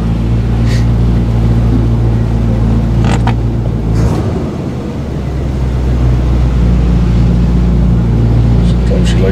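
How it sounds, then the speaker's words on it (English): A vehicle engine idling high keeps up a loud, steady low drone throughout, with voices heard over it. "I'm like shutting it off when it's got that high idle going."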